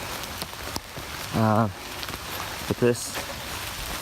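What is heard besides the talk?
rain falling on trail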